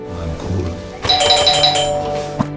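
A doorbell rings at a front door, a clear electronic chime with repeated tones over a faint background murmur, sounding at moderate loudness and then fading.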